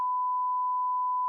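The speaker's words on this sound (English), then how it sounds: "I'm going to bleep all this" A steady censor bleep, a single pure tone held unbroken for just over a second, masking speech that is never heard beneath it.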